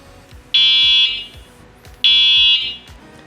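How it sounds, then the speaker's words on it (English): Two loud, piercing electronic horn blasts from an ENGWE M20 3.0 electric bike, each a steady shrill beep of about half a second separated by a short gap, with faint clicking and handling noise underneath and no talking. "you have the electronic horn, and it's very loud, so this is how it sounds"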